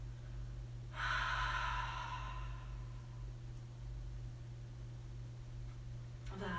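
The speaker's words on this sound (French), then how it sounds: "ouvrir la bouche et expirer" A single long exhale through an open mouth during yoga breathing, heard close and soft for about two seconds over a faint steady hum before a brief rustle.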